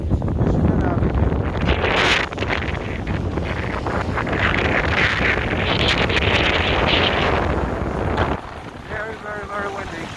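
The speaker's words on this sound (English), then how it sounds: "Very windy." Strong wind gusting hard against the microphone during a snowstorm on a Chicago street in Streeterville, a loud continuous roar and buffeting with a brief drop near the end and faint voices mixed in.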